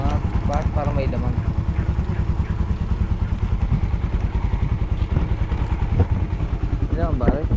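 A motorcycle engine under repair runs close by, a steady pulsing idle with rapid regular firing beats and some rattle, while people talk over it.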